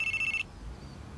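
A telephone rings in a quiet indoor room, a single short electronic trill with a bright warbling tone that cuts off abruptly after under half a second, leaving faint background hush.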